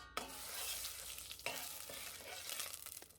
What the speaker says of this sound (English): In a heavy pot, heat the oil, add the brown sugar and let caramelize.